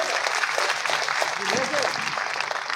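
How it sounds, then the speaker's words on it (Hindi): Audience applause at a crowded gathering of women honoring a local leader, steady dense clapping throughout with a voice speaking faintly over it. "जोरदार ताली बजाएं।"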